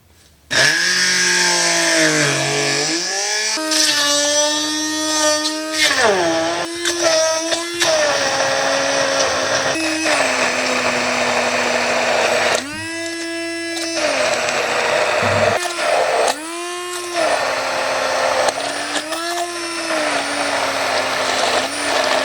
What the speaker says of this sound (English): I'm gonna mix all the ingredients into a sauce with my hand blender.